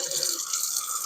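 Cold water runs steadily from a kitchen tap, a continuous close hiss with no talking, while eggs are being cooked.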